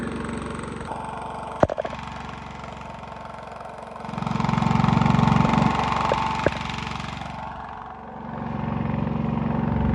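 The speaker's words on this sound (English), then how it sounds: "We have 2 chainsaws going at all times." Two chainsaws clearing thorn and locust trees drone and idle nearby, swelling louder as a saw revs up, then easing back, with a few sharp clicks along the way.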